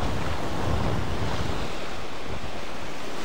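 Strong wind and crashing surf at a Maldives beach, a loud, dense, steady roar of waves and buffeting wind noise filling the whole stretch, with no voices.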